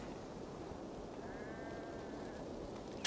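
Single faint, wavering sheep bleat from the video game Assassin's Creed Valhalla, drawn out over about a second against a steady ambient game background.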